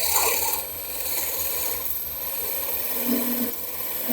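Wood being turned on a lathe while the neck of an eccentric lady figure is cut deeper, a steady close rasping scrape of the tool on the spinning workpiece with a low motor hum underneath.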